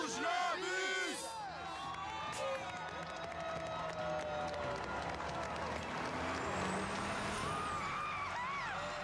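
A bus pulls away with a loud air brake hiss while a crowd at a home renovation reveal cheers and chants around it, then the vehicle's engine drones on under the noise of the crowd.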